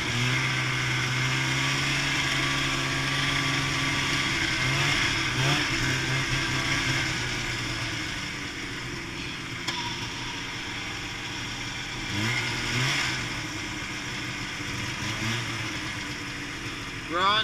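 Polaris 440 snowmobile engine on a steep mountain hill climb, a steady mid-pitched drone with surging revs from about 5 to 7 and 12 to 14 seconds, loud and close throughout.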